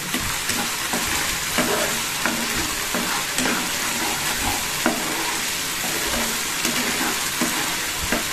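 Pointed gourd masala with sugar being stir-fried in a pan, a steady sizzle with spoon scrapes and stirring clatter repeating every second or so, close and fairly loud, with no talk.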